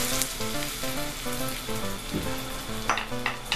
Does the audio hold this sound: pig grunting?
no